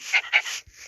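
A dog in the Minecraft video game pants in quick, breathy huffs, two strong puffs and then softer breathing, close and clear, with no talk.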